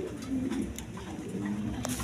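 Male Rajgolla pigeon with coloured markings cooing close by, a low throaty rolling coo repeated in soft pulses over a couple of seconds.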